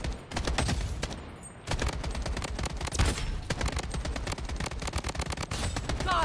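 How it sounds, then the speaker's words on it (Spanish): Gunfire in the shooter video game Blood Strike, with dense rapid automatic bursts rattling almost continuously and a brief lull near the start. Loud and close, with no talking over it. "Aquí escuché un montón de disparos."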